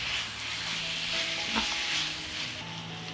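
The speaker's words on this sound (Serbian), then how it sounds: "I sve ćemo ovo pržiti još 10 minuta." Meat frying in a pan with paprika and a spoonful of tomato paste while being stirred: a steady, close sizzle runs throughout, with no voices.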